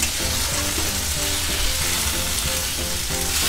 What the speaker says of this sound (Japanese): すごくバチバチしてきたので見てみます。